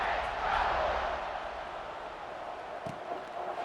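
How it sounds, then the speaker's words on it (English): Stadium crowd noise from the EA Sports College Football 26 video game, a steady broad roar that is loudest at the start and eases slightly, with no talk over it. "this crowd is buzzing after that last score"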